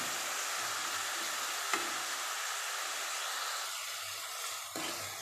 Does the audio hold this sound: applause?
no